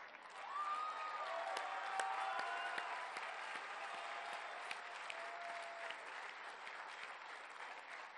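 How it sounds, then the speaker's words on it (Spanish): An audience applauds steadily for Diego, a social anthropologist, at the inauguration of Parque del Jaguar; dense, sustained clapping fills the whole stretch, with a few faint voices rising through it. "Diego, vamos a darte un aplauso."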